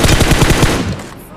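Rapid automatic gunfire from a BGMI (Battlegrounds Mobile India) match, a loud burst of closely spaced shots for about a second before it cuts off and fades.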